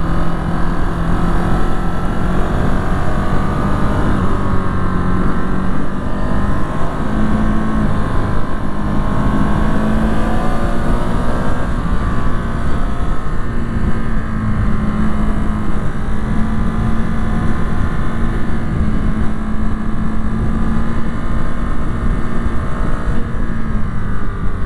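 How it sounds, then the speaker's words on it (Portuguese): A Ducati Supercorsa SP V4 sport motorcycle engine rumbles steadily and loudly throughout at a racing festival at Interlagos, with a deep droning tone that slowly shifts pitch, along with wind buffeting the microphone. "Que legal o torque dessa Ducati"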